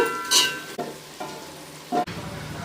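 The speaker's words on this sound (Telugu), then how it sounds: "వీటినంతా ఒకసారి కలుపుకోవాలి మసాలా అస్సలు మాడకూడదు కలిపిన వెంటనే ఇందులో టమాటా వేసేసుకున్నాము" Tomatoes tipped into frying masala and stirred in a pan: close spatula scrapes and clatters over a steady crackling sizzle, with two sharp knocks against the pan, and no speech.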